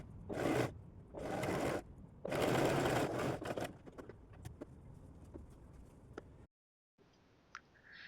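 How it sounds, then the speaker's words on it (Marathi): Sewing machine stitching a saree ghagra, close and loud in several steady bursts of running needle noise, then quieter handling and scraping of fabric with a brief silence near the end. "नंतर 1/2 इंच इथे स्टिच करून घ्यायचं आहे"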